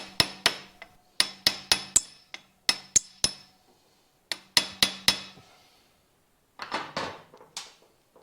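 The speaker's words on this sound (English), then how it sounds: "we're just going to tap that. Trying to free up the corrosion." Sharp metallic hammer taps strike a corroded part on a 2008 Harley-Davidson Softail motorcycle left parked for three years, coming in quick clusters of close, ringing blows with short pauses between.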